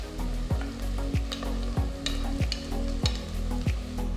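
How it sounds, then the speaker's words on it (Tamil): Onions sauté over high heat in a pan for Kongunadu white biryani, a steady loud sizzle broken by regular scraping stirs roughly every half second, close and with no talk. "ஸோ இப்போ ஹையில் வச்சு தான் நான் வந்து இதை சாட்டே பண்ணுறேன்."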